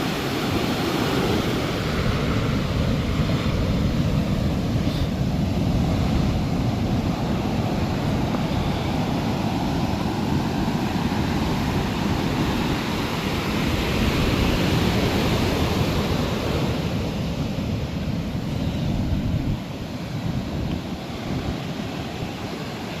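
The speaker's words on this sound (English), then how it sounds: "The sea is so powerful." Powerful sea waves crashing in strong wind, a continuous loud roar of surf with gusts buffeting the microphone, sustained and close with no voices.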